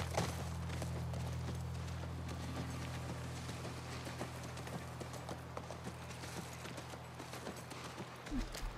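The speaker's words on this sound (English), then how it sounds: "That's our horse." Steady clip-clop of horse hooves at a ranch corral in The Last of Us Remastered on PS5, a continuous walking rhythm close by over a low droning game ambience, with no voices.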